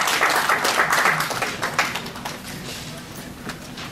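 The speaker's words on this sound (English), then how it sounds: "An applause, please." Attendees at an annual general meeting in Rome clap together in a brisk burst that is strongest at first and then thins to scattered claps by the end.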